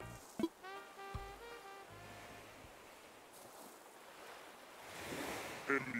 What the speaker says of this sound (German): die Geräusche der Welt, wie die Wellen brechen, während der Wind sie vor sich her treibt